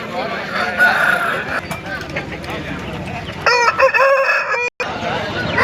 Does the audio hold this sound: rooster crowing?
yes